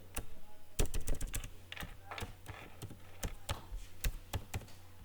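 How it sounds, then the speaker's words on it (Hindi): A wallet PIN is tapped out on a computer keyboard as a quick, uneven run of crisp, close key clicks. "उसके बाद हम फिर से वॉलेट पिन डालेंगे"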